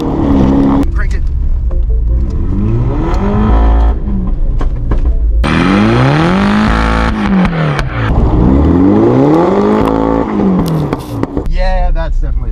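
A front-wheel-drive Mini revs hard in second gear while sliding sideways through snow, engine pitch rising and falling in sweeping waves over continuous road and tyre noise, loud and close, with people talking excitedly over it.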